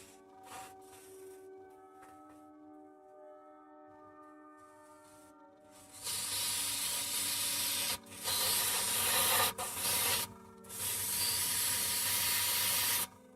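Spray can misting varnish onto a painted Knight Porphyrion model: soft, close hissing bursts of several seconds each, separated by brief pauses, over a faint background hum, with no talking.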